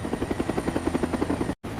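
A helicopter flying during a factory flight test, its rotor chopping in a steady, fast rhythmic beat that stays loud and close, then cuts out abruptly for a moment near the end.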